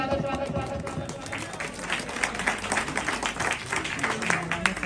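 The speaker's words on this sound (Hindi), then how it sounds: "जोरदार तालियों से उनका स्वागत कीजिए।" Audience at a gathering applauding to welcome a guest, with scattered clapping spread over crowd murmur and nearby voices, moderately quiet and continuous.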